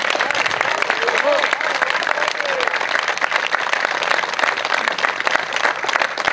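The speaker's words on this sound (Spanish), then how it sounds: "Un aplauso por favor para el camarada" Sustained applause from a crowd gathered at a naval infantry reunion, dense steady clapping for a comrade lasting throughout, loud and close, with a voice faintly under it.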